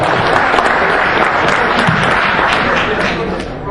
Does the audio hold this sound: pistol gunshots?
no